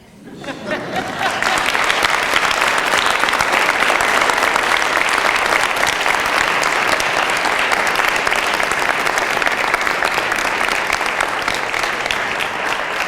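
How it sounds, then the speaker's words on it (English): Loud, sustained applause from a large crowd, swelling in quickly and continuing steadily without letting up. "I think another round of applause."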